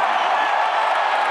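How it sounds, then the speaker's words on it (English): Arena crowd at a UFC event applauding and cheering for a winning fighter, a dense, steady wash of clapping and voices that holds at full volume for the whole brief moment. "how about a round of applause for a legend?"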